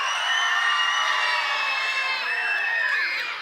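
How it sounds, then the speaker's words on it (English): An audience cheers loudly for Papa John's pizza over Mellow Mushroom, a dense wash of shouts, whoops and high voices sustained for about three seconds before tapering off. "I want everyone to cheer for Papa John's if you like Papa John's more than Mellow Mushroom"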